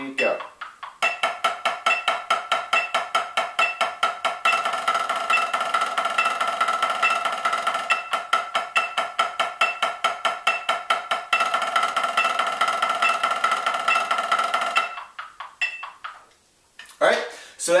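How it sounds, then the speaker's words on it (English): Snare drum playing an exercise of sixteenth-note strokes alternating with sixteenth-note buzz rolls, a steady rapid pattern of crisp hits and sustained buzzing that runs loud and alone before stopping near the end. "So we have a 16th note rhythmic bass and then 16th note buzz rolls."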